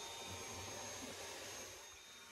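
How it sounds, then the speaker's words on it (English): A vacuum cleaner sucks sawdust out of a window cutout in an RV wall, giving a steady, faint whooshing hum that eases off slightly at the end. "And vacuum it out"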